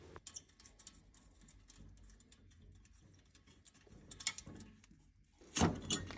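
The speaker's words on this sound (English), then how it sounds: "Now I'm going to take that nut off." A 30mm nut worked loose during a breakdown repair, with sparse metallic clicks and ratchet-like ticks spread out over several seconds, then a louder clattering rattle near the end, close up, no talk.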